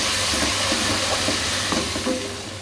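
Chopped garlic and ginger fry in hot oil for Punjabi kadhi pakora, giving a steady, fairly loud sizzle with occasional stirring scrapes near the pan, no voices.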